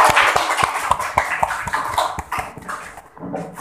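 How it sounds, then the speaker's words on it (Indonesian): Classroom applause for a student group, a quick run of sharp, fairly loud claps from several hands over about three seconds, thinning out toward the end. "Sudah bagus ya, kita beri tepuk tangan."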